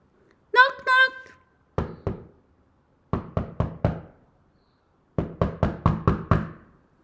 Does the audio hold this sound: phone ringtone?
no